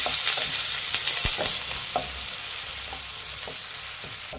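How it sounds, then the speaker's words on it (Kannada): Chopped onions and a sprig of curry leaves frying in hot oil in a pan, a steady close sizzle with a few scraping stirs of a spoon throughout, no voices, while making hotel-style dal fry. "ಒಂದು ಗರಿ ಕರಿಬೇವು, ಸಣ್ಣದಾಗಿ ಹಚ್ಚಿರೋಂಥ 2 ಈರುಳ್ಳಿ ಹಾಕ್ತಾ ಇದ್ದೀನಿ"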